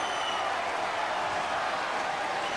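Crowd at a table tennis world championship semi-final cheers and applauds in a steady, dense roar that stays loud and even throughout, with no clear individual voices.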